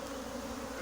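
Honeybees buzz loudly and continuously during a swarm capture, a dense close-up droning hum with no pauses.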